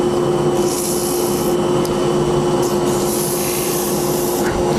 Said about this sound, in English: I crease the sandpaper and I go into the inside and I turn, say, all of the left sides